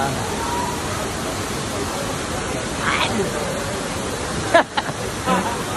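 Vera Falls, a waterfall in Albay, Bicol, makes a constant broad roar of rushing water, with brief voices and splashes rising over it near the end.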